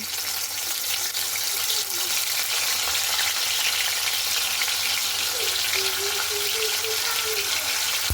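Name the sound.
hilsa fish frying in hot mustard oil in a wok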